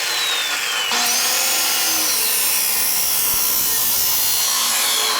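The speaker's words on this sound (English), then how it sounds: "I'm going to make the initial cut right at the weld because I want to make sure that we don't cut it too short" A power tool cuts through a stainless steel motorcycle exhaust pipe at the weld for an RX4 slip-on muffler, giving a loud, continuous, high grinding whine that shifts pitch as it bites in and holds steady to the end.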